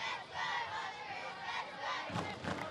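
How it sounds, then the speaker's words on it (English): Home crowd of Western Sydney Wanderers fans roars and chants at an A-League match against Newcastle Jets, a dense, sustained stadium din with surging shouts and a louder swell near the end. "You can hear the home fans cheering for Wanderers"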